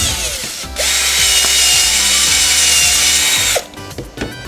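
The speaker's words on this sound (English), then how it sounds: "Then I can just drill that out." A loud power drill whines steadily for about three seconds drilling a hole in a pipe, then stops, followed by a few clunks and rattles.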